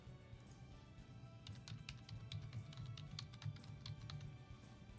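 Light typing on a computer keyboard: faint, soft key taps in an uneven series, quiet beneath a low steady background hum.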